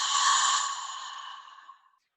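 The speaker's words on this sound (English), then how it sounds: "Open mouth, exhale." A single long open-mouth exhale during yoga breathing, a breathy, airy sigh heard close up that slowly fades out over about two seconds.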